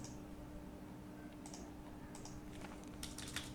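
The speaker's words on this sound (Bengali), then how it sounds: "এখানে আমরা কন্ট্রোল এন্টার করলাম।" Soft typing on a computer keyboard while writing Python statistics code, a few scattered light key clicks ending in a quick cluster of taps as Control and Enter are pressed, faint and close in a quiet room.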